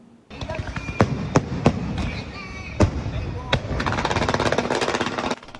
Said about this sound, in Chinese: 烟火伫天顶线开，色彩真水。